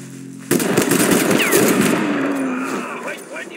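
Gunfire in the WWII strategy game Mud and Blood, a sudden loud onset of rapid machine-gun bursts and rattling shots with whistling tones over a busy battlefield, fading slightly toward the end.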